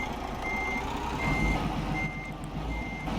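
Reversing beeps from a truck in American Truck Simulator, a steady series of evenly spaced electronic tones repeating over a constant engine rumble.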